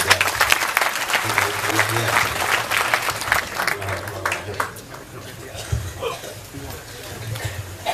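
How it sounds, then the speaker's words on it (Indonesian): Applause from an audience at an Indonesian religious gathering, strong clapping at first that gradually fades, with light chuckles, murmuring and a low hum beneath it. "Untuk Ustaz, tepuk tangan semua untuk Ustaz."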